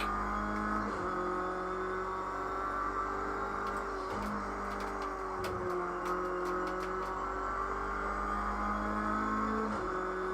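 A race car in Project Cars 2 works through a hairpin, its engine droning steadily with pitch drops and revs as it brakes and shifts, while faint tyre scrubs and clicks sound over it.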